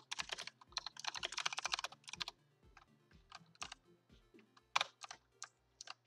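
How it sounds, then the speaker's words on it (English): Rapid bursts of computer keyboard typing, close to the microphone, with clustered clacks at first that thin into scattered single keystrokes over a low steady hum. "Sorry for the keyboard noises once again."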